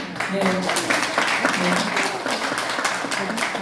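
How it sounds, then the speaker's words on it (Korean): Applause from the audience at the close of a youth illegal gambling forum at the National Assembly Members' Office Building, a steady moderate clapping heard under continuous talk from the host. "세 분의 토론자님께 큰 박수로"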